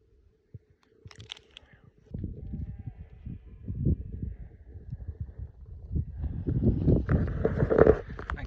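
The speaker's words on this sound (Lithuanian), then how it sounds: "Na ką ir mes tarp avių," A flock of sheep and goats bleats along a rocky mountain trail in Morocco's Atlas range, bleats starting sparse then overlapping thickly, close by, with some hoof shuffling.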